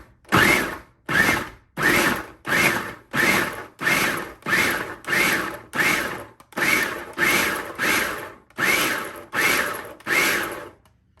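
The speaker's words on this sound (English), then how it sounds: "if you have a food processor, don't work hard, work smart, and we're gonna pulse it in here" Food processor pulsing butter into flour for pine tart pastry: about fourteen short, loud, evenly spaced motor bursts with brief silent gaps between them, close up and with no talking.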